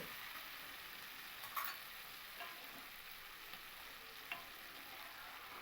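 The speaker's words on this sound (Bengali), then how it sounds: "সবজিগুলো দিয়ে মশলার সঙ্গে আমি চার থেকে পাঁচ মিনিট কিন্তু খুব ভালো করে একটু কষিয়ে নেব" Vegetables frying with spices in a pan while being cooked down for a vegetable dal: a steady, soft sizzle throughout, broken by a few light scrapes and taps of a stirring spoon.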